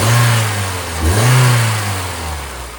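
A Honda Civic FD petrol engine revs up smoothly from idle, dips briefly, then holds a raised steady hum before easing back, close and fairly loud with no talking.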